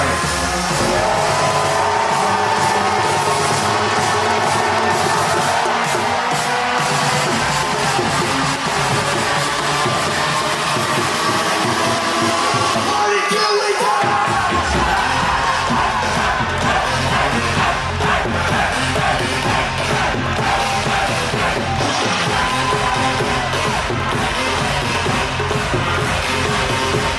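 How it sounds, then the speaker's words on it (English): Wedding reception guests welcoming the couple Sagar and Dharini with continuous loud crowd noise and cheering over music, sustained throughout at a steady high level. "I need everyone to make some noise and help me welcome in the Patels."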